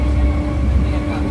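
A train rolling into Ranaghat station, a steady close rumble with a faint tonal hum throughout, heard from on board without any clear voices.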